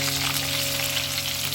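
Potatoes fry until crisp in a pan, giving a continuous, even crackling sizzle that stays close and fairly loud with a steady hum beneath it. There is no speech.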